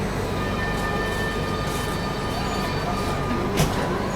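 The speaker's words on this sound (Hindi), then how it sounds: "ये तो ओवरटेक करके जा ही रही है कर्नाटका एक्सप्रेस" The Karnataka Express overtaking on parallel rails, a steady close rumble of wheels and carriages rolling past, with a faint brief clank near the end.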